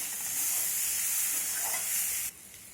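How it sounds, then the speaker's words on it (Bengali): Potatoes and fried bitter gourd sautéing together in a pan, a loud, dense hiss of frying held steady and close before dropping off abruptly near the end. "এখন আমি এর মধ্যে দিয়ে দেবো ভেজে রাখা করলা। সব কিছু আমি একসঙ্গে এবার কষাতে থাকবো।"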